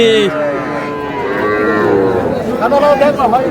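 A young cross-breed bull calf at a cattle market moos loudly and repeatedly at close range, with murmuring market voices behind.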